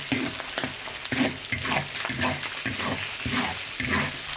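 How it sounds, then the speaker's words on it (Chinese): Fresh pork and bamboo shoots stir-fry in a wok with ginger, garlic, Sichuan peppercorns, chili and fermented black beans, a loud continuous sizzle broken by rhythmic scraping strokes of the spatula, close and alone. "新鲜肉炒起"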